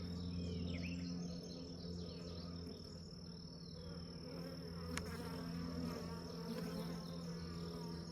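Honeybees buzzing steadily around an open hive during an inspection to mark a dark queen, a dense close hum of many insects with a faint tick partway through.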